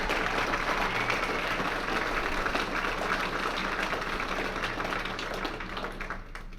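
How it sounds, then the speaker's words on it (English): Audience applause at a distinguished alumni gala fills the hall as a steady, dense wash of clapping, sustained for several seconds before easing slightly at the end. "Let's give them a round of applause."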